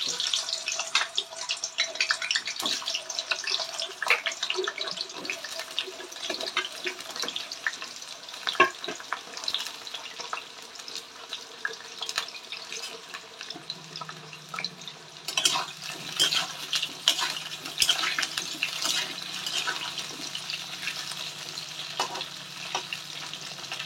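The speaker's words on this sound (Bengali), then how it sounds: "পটলগুলো আমি ভেজে নিচ্ছি আগে।" Pointed gourds frying in hot oil in a home kitchen, a soft steady sizzle and crackle with stirring clinks and a brief stretch of running tap water, fairly quiet and without talk.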